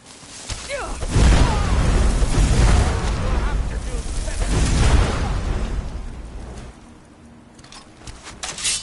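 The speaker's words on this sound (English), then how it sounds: "I'm just going to bomb you." Loud, rumbling booms roll out in a sustained burst, swelling and fading over several seconds, with a voice talking underneath.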